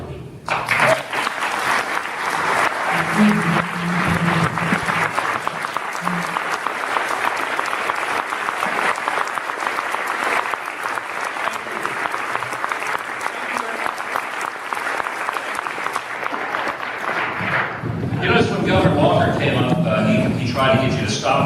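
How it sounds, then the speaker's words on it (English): An audience applauds a governor at the World Orphan Fund Gala, sustained loud clapping from a large crowd that carries on for most of the time before fading into a voice speaking over the room. "Tried to get you to stop clapping, and I got up and I wanted you to do some more."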